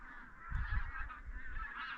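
A flock of ducks on a lake in spring gives a stream of faint, overlapping honking calls, steady and somewhat distant, with no voices over them.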